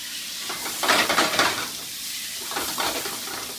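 Chicken piccata with seared capers simmers in a pan, giving a steady close sizzling hiss with a couple of brief swells, as if stirred, and no voices.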